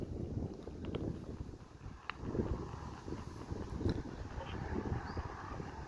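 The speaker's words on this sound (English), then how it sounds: "As soon as I start recording, the wind picks up." Wind buffets the microphone at a cemetery, a continuous low rumble and roar that swells and eases throughout, with a few faint ticks on top.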